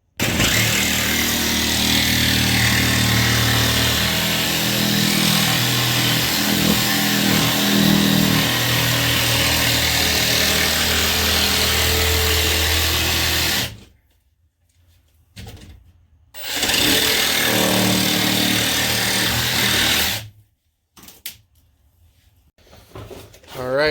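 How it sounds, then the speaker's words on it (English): A power drill drives screws through subfloor panels in a van build, making a loud, sustained mechanical whir with busy clatter that cuts off abruptly twice, leaving short quiet gaps between bursts. "we got the next section of subfloor down and screwed in"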